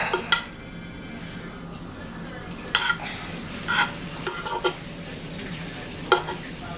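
Hamburger bun yeast mixture stirred in a bowl, a soft swishing with a few sharp utensil clinks against the bowl scattered through, close and fairly quiet.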